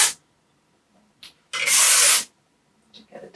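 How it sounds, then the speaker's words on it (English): Hairspray from an aerosol can sprayed onto lifted, styled hair: a short puff early on, then one loud steady hiss lasting under a second, close to the mic, with faint rustles around it. "Just gonna try and like lift this and spray things a little bit."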